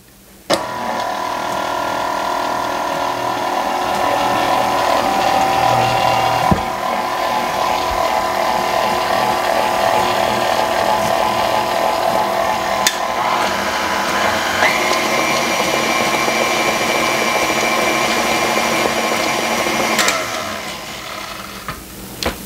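An electric mixer beats flour into chocolate cake batter for a ten-layer cake. Its motor whirs loudly and steadily for about twenty seconds, then cuts off with a few knocks.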